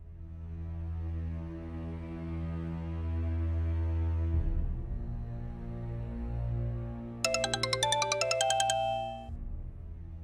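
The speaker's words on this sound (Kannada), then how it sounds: "ಅಣ್ಣ ರಿಂಗ್ ಆಗ್ತಿದೆ" A phone rings in a Kannada TV drama scene, a repeating electronic ring tone rising over a low droning hum, then a burst of bright pulsing tones near the end, with no talk.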